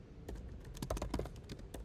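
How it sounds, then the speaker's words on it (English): Irregular tapping on a computer keyboard at a game-development workshop, a quick uneven burst of close keystrokes with no talking. "Oh, I'm not typing well."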